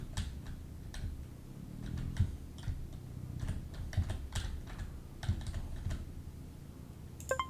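Computer keyboard keys tapped steadily to steer a car in a browser game, a run of light, close clicks and clacks with irregular rhythm over a low background hum.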